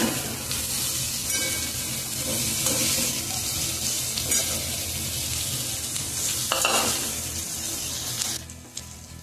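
Cowpea leaves (chavli greens), freshly washed, are stirred in a hot pan, giving a steady close-up scraping and sizzling that runs without pause and thins out near the end.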